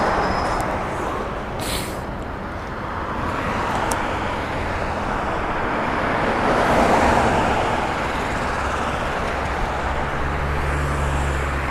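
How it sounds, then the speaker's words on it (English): Steady roadway traffic rolls past a bicycle commuter on icy streets, a continuous broad rumble of cars with a brief louder swell mid-way, heard alone without talk. "Cars, cars, cars."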